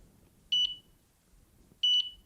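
Two short, bright electronic beeps from a Delkim fishing bite alarm sound about a second apart, each with a quick double pulse, over a quiet background.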